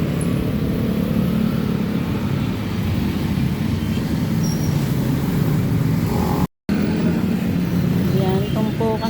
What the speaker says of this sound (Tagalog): Hindi ako makatawid, daming sasakyan.